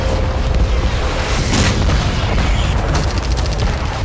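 Explosions from drone and missile attacks on Crimea's Sevastopol naval base make a loud, continuous roaring rumble. Heavier bursts swell within the dense noise throughout.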